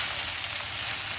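Khichdi ingredients frying in a pan, a steady dense hiss of sizzling oil, close and continuous without breaks.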